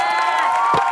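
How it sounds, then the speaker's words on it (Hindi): A studio audience at a comedy entertainment show erupts in a brief, loud burst of cheering and whooping voices with clapping underneath. "जोरदार तालियां हो जाए गोविंद अंकल के लिए।"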